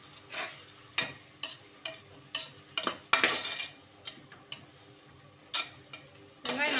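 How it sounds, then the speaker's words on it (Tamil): Onions sauté in a pan for mutton biryani. A utensil gives repeated sharp scrapes and clinks against the pan at an irregular rhythm, with a faint sizzle underneath. "வெங்காயம் நல்லா வதங்கட்டும்."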